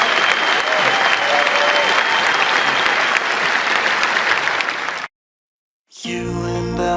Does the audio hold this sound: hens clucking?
no